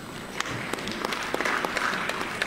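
Applause at a regional council plenary session, a steady crowd clapping sustained at moderate level for a few seconds with scattered sharper claps on top.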